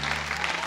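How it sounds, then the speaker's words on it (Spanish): Applause from a studio audience at a televised tribute show, a steady wash of clapping with a low musical hum beneath it, brief and fairly loud. "Un aplauso para las hermanas también,"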